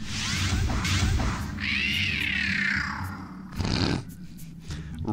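A cat sound in the Emperor's New Groove video game, a drawn-out rising and falling yowl over roughly a second and a half, loud and close, followed by a short rough burst amid game noise.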